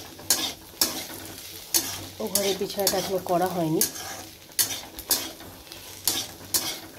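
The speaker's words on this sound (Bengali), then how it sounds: "আর এখানে আমাদের জন্য ভাত হচ্ছে, আর পেঁয়াজ শুকনো লঙ্কা দিয়ে একটু আলু ভাজছি," Potatoes fry with onion and dried chilli in a pan while a spatula scrapes and stirs in sharp, irregular strokes over a soft sizzle, close by; someone speaks briefly partway through.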